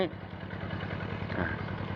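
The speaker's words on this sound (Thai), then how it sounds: "ทุกวันนี้ก็ใช้รถไถเดินตามเนาะในการไถ" A walk-behind tractor engine ploughs a rice field with an iron harrow, its chugging mid-range drone steady and close for two seconds, while a person talks over it.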